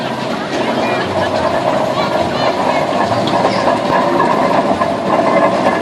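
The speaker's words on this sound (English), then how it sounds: "We have what pulled behind traction engines, always referred to as traction wagons." A full-size steam traction engine hauling traction wagons in a steam engine parade at Abbey Hill, giving a steady loud rumbling and clanking drone under someone talking over a public address.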